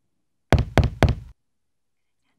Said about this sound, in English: When the wolf knocked on Grandma's door,